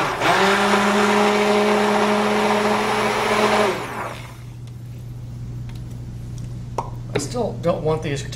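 A stick blender whirs steadily for about four seconds while mixing liquid soap colorants for a column-pour soap, then cuts off, leaving a low hum and a few small clinks and taps.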